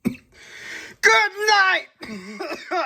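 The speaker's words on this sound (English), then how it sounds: "All this dust making me cough." A person coughs and clears their throat, irritated by dust while handling Pokemon cards; a few rough, voiced bursts sound close and loud, separated by brief pauses.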